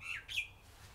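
Bird squawking outdoors near a garage during a car strip-down: two quick shrill, rising calls in under a second, fairly faint, over a low steady background hum.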